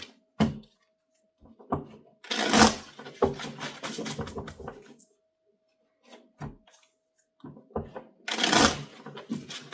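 Tarot cards are shuffled in bursts of quick riffling and slapping, loud and close, separated by short pauses and softer card handling.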